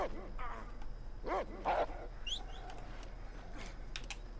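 Dog barking and whimpering in the video game Red Dead Redemption, a few sharp yelps and barks close by over low game ambience, with faint typing-like clicks.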